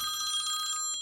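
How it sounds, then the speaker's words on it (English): A mobile phone ringtone sounds during a maths lecture, a faint, bright tonal chime lasting about a second before cutting off, with no one talking. "I apologize for my phone ringing there."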